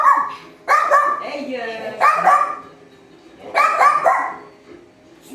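A dog barks in short bursts several times, fairly close, with a person talking between the barks.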